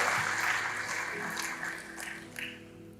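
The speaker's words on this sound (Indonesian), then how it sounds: "Berikan tepuk tangan bagi Tuhan," Dense, steady crowd applause and clapping at a church service, fading slightly toward the end, with no speech over it.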